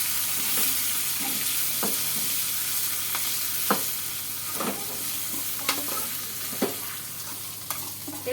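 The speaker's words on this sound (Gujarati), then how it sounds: "સારી રીતે વઘાર કકડી જાય" Sizzling hot oil carries the crackle of a Gujarati tempering of mustard seeds, cumin, curry leaves and chillies, with scattered sharp pops spaced a second or so apart over a constant close hiss.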